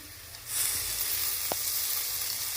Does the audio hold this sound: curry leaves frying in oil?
yes